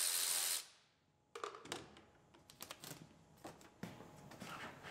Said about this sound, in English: Pull the one screw out.